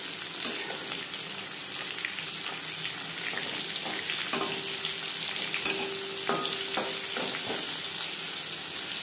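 Chicken popcorn fries in oil over a medium flame with a continuous loud crackling sizzle and a few brief clinks and scrapes of stirring, no talk.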